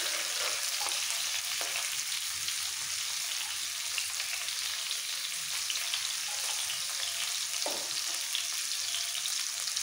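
Carrots and beans frying in hot oil for veg fried rice, a steady, even sizzle that fills the whole stretch without pause, close and moderately loud, with a few faint clicks of stirring over it.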